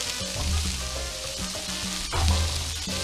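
Steak for fajitas sizzles in hot oil in a pan, a loud continuous frying hiss with crackling spatters and occasional stirring or shifting of the meat, no talking.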